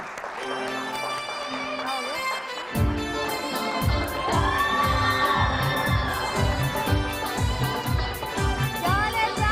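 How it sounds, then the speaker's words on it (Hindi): A TV studio audience claps and cheers steadily throughout, with music playing along and a rhythmic beat kicking in partway. "तो जी मैं बुलाती हूँ आपकी बहुत सारी तालियों में अरसलान को।"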